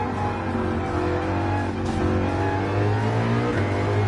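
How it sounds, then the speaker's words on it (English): Sustained V8 race car engine from Gran Turismo 7, droning steadily at high revs with harmonic whine and slight pitch shifts, loud and continuous with no talk. "Very high red line for a V8."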